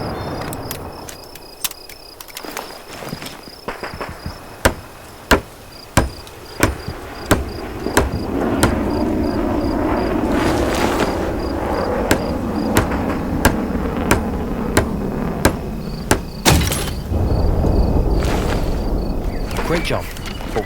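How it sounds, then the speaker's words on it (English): Hammer blows building a barricade in Hell Let Loose, evenly spaced sharp knocks repeating over a steady ambient bed of insects and distant combat, with speech heard in the background. "Use the hammer in your loadout to finish constructing it."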